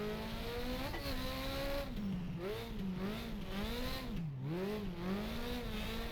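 Race trucks on a dirt oval in the rFactor racing sim, their engines revving up and down in rising and falling sweeps, a loud, close, continuous drone with no talk over it.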